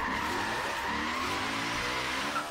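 A car drifting in Forza Horizon 3 from the Hoonigan car pack, played on a Logitech G920 wheel: a sustained, loud tire squeal with engine drone that holds steady for a couple of seconds, no voices.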